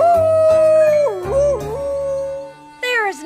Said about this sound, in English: nothing like howling at the moon on the frontier with no one else around